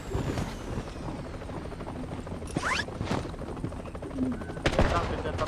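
A helicopter drones steadily in a shooter video game, its rotor noise running underneath bursts of gunfire and sharp impacts.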